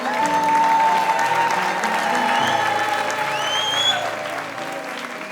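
A congregation at a French-language sermon claps and cheers in a sustained, dense burst of applause that slowly tapers off toward the end, with shouts mixed in.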